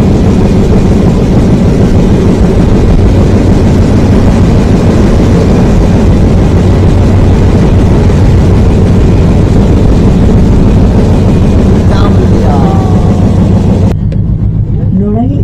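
Loud, steady rumbling and clattering inside the Jahanabad Express as it runs past Jamdia railway station, a continuous heavy drone that drops off near the end, with voices talking over it.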